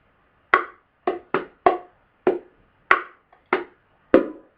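Eight sharp hand strikes on bongos, mixing ringing open tones with lighter finger strokes in an uneven rhythm, close up with nothing else heard.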